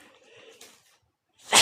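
A single sudden, loud sneeze bursts out at the end after faint murmuring and a moment of near silence.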